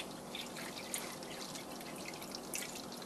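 Maple sap filtered through cheesecloth drips and trickles into empty water jugs, a steady soft patter with a few sharper drops, close and without talking.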